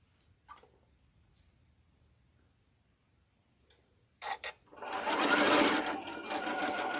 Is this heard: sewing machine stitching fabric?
yes